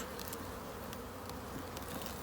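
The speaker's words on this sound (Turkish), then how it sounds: "Arılarımızı kontrol ediyoruz." Steady, dense buzzing of many honey bees swarming around a hive, a continuous droning hum with no voices.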